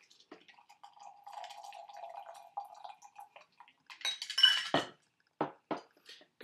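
A basil, black pepper syrup and cucumber soda cocktail is poured from a shaker into a glass. A soft trickle runs for a few seconds, then a brighter splash and several sharp clinks of ice and glass, close and quiet.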